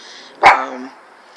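A single sharp dog bark rings out close by, a short loud burst with a brief trailing tail, against a quiet background with no talking.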